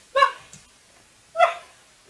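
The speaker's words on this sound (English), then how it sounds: "There's a dog in the background." A dog barks twice in the background, two clear single woofs about a second apart, moderately close, with no talk.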